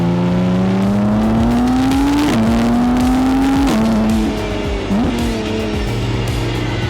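A McLaren Artura sports car accelerating hard, its engine note rising in pitch through several paddle-shifted gears with brief dips at each shift, loud and close, with some tyre noise beneath.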